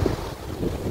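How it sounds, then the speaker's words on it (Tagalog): Steady wind rushes and buffets against the microphone on a hike to the lighthouse on Ap Lei Chau, Hong Kong, under overcast skies, a broad low roar with gusty swells and no talking. "Mahangin."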